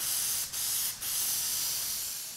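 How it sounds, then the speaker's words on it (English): Aerosol can spraying plastic dip coating onto a billet aluminum Mustang grill, a steady close hiss broken by two quick pauses between bursts, then continuing to the end. "you want to try and hit the areas you weren't able to hit when you sprayed down your first coat"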